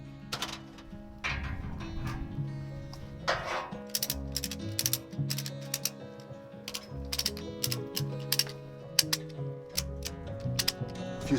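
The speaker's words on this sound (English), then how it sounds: "I've got some ratchet straps, and my plan is to try to strap this array down to the container" Ratchet straps being cranked tight to hold a solar array to a shipping container outdoors in winter, heard as repeated close, clicking ratchet strokes in short runs over a steady background hum.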